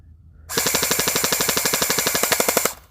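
An airsoft gun fires a single sustained full-auto burst at steel targets, a rapid, even rattle of closely spaced shots lasting about two seconds, loud and close, with nothing before or after but quiet.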